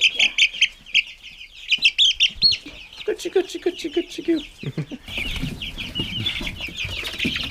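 Chickens in a brooding room peep and cluck rapidly and close by, a busy high-pitched chorus, with a brief spoken word partway through and a rougher, noisier stretch of bird calls toward the end.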